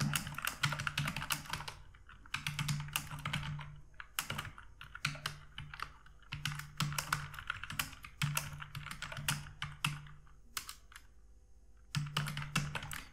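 Quick bursts of typing on a computer keyboard: close, crisp clicks in uneven runs, with short pauses between phrases.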